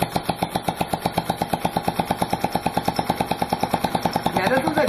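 A weed eater two-stroke engine converted to run on compressed air chugs steadily and close up, with rapid even pulses about eight per second and a brief hiss of air near the end.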